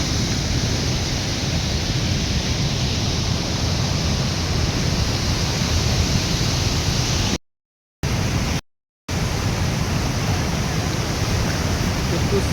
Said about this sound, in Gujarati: તમે જોઈ રહ્યા છો ધોધનો અવાજ, જોરદાર પાણી નીચે, ધોધનો અવાજ